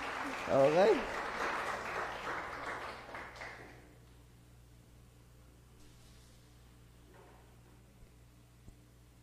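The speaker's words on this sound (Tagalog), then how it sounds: "Palakpak po nung mga masayang naka-attend uli ngayon" A church congregation claps for Jesus during a service, a broad burst of applause in the first few seconds that fades quickly, leaving a quiet room and a brief spoken word.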